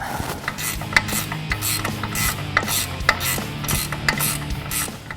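Rapid ratcheting clicks from a wrench tightening a ball joint nut on a 2015-2018 Ford F-150 front suspension during a Roush Fox 2.0-inch kit install, a steady run of metallic pawl clicks with a few louder snaps, close and alone.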